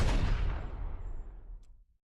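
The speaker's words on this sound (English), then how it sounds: "You hear two rounds rattle off. You hear the crowd roar as the thunderous explosion of Bertha's shots rings out" A thunderous gunshot and explosion sound effect, played during a tabletop Dungeons & Dragons game, hits loud at once and rolls off into a long fading rumble before cutting to silence.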